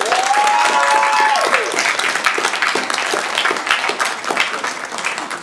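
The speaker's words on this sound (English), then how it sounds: "let's give a round of applause to Summit Shasta" Sustained applause from an audience at a youth poet laureate commencement event, loud and dense throughout, with a brief whistle near the start and clapping gradually thinning toward the end.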